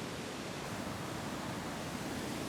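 Water from photogenic cascades flowing steadily, a dense, even rush that stays constant and fairly close throughout with no voices.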